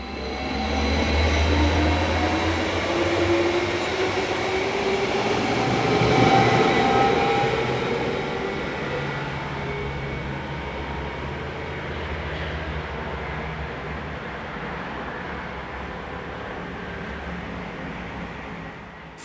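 A Südostbahn Traverso electric train set rolls past on the Swiss mainline, a steady loud rumble of wheels and motors with a swell in the middle and a long continuous roar, no voices.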